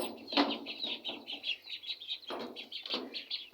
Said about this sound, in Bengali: এখানে আছে আমাদের হাঁসের বাচ্চা মুরগির বাচ্চা এগুলোকেও এখন বের করে দেবো ঘর থেকে